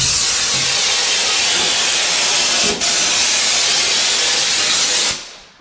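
Steady, loud hiss of a paint spray gun painting the underside of a VW T4 Syncro van, running continuously for about five seconds, with one brief dip midway before it cuts off.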